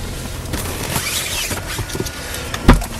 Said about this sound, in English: The seat slides back for you.